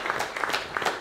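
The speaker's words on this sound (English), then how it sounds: "I think that deserves a round of applause" Brief burst of audience applause at a circular-economy innovation conference, a dense patter of many hands clapping at moderate loudness, lasting only about a second.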